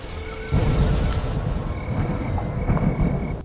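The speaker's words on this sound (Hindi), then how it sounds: "आसमान में बिजली जोर से कड़की और उसकी गड़गड़ाहट जंगल की खामोशी को चीर गई।" Deep rumbling thunder rolls through a stormy night, a heavy broad roar that swells after a brief lead-in and keeps growling steadily with no speech over it.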